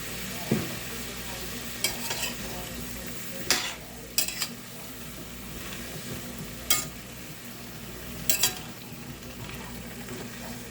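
Squash and eggplant sautéing in a pan after garlic, a steady soft sizzle with occasional stirring scrapes and clinks, close and fairly quiet, no talking.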